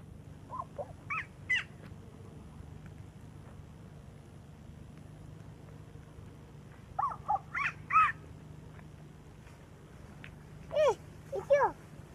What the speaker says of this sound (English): So there's a monkey. What's the noise he make?